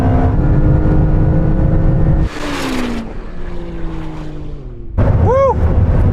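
Ferrari SF90 hybrid accelerating hard in a drag race, a loud engine roar climbing through gears with sharp shift breaks and whining electric motor tones, close and intense.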